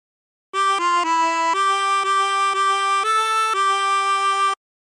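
A 16-hole tremolo harmonica plays a short phrase of The Yellow Rose of Texas, a series of clean, steady reedy notes with a wavering shimmer, each note held briefly in an even rhythm, alone and close.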